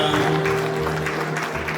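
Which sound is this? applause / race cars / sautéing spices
applause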